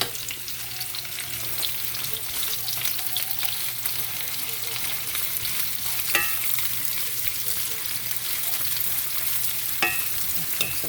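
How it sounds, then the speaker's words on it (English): Onions and other ingredients for jollof rice stir-frying in a pan, with a steady loud sizzle of hot oil throughout, broken by occasional scrapes and clicks of a utensil against the pan, close and without speech. "we're going to stir fry this for about 2 to 3 minutes"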